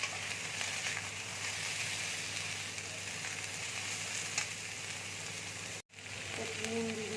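Tomatoes and capsicum fry in a pan with a steady, close sizzle and crackle that runs on without a break, apart from a brief cut near the end.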